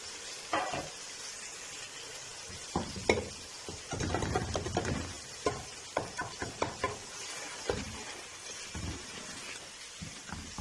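Two unbeaten eggs go into a pan of softened tomatoes, sizzling and frying with repeated scraping and stirring knocks, close and moderately quiet, without speech.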